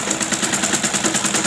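A sewing machine runs at a steady clip as it stitches fabric. The mechanism ticks in a regular, close pulse that lasts throughout.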